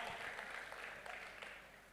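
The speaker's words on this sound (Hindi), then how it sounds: "एक बार भरपूर तालियां दे" Faint crowd applause at a Hindi poetry recital, steady clapping heard from a distance for about two seconds.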